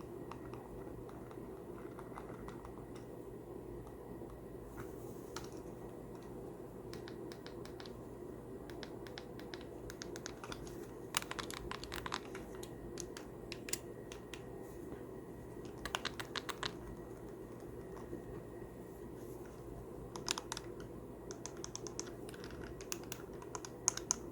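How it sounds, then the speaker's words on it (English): Crisp clicks from micro switch buttons on a handheld game console with a Nintendo-style D-pad and face buttons, tapped in scattered irregular bursts over a steady low background hum. "everything is on micro switch instead of soft membrane, so everything has a nice little click to it"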